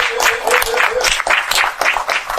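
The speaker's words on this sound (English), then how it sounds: "Everybody clap a hand one time for the OG." Podcast audience applauding, a burst of dense hand clapping lasting a couple of seconds, close and fairly loud with no talk over it.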